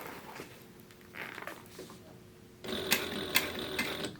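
Sewing machine stitching a square corner on a book bag, first a quieter stretch of handling, then a closer, louder mechanical run of rapid stitching with rattling clicks.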